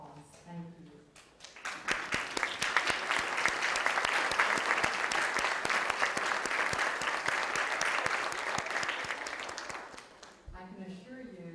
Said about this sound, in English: let us give you a round of applause